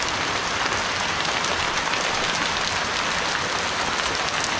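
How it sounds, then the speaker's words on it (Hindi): Steady, dense rain falls in an Uttarakhand village, a constant hiss of drops with no pauses or voices, fairly loud and even from start to end. "अब पता नहीं है बारिश कितने दिन बाद रुकेगी"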